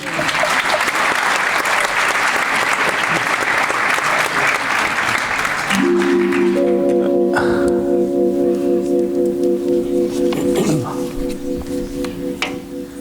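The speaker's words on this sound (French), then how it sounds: "on peut applaudir Manu au son" Audience applause at a cine-concert for a silent film, a dense wash of clapping that fades after several seconds while a steady tone and faint voices follow.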